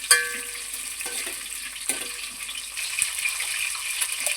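Capsicum peppers frying in gravy for a kaju paneer dish give a steady, moderate sizzle and bubble, with a few soft clinks of stirring scattered through it.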